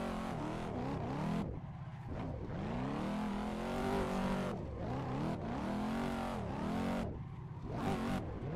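A drift car revs under throttle alone, engine pitch rising and falling in repeated sweeps, loud and close, with brief dips between pulls as it slides.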